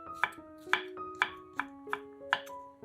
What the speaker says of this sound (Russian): У меня грибы среднего размера, я их нарезаю кубиками.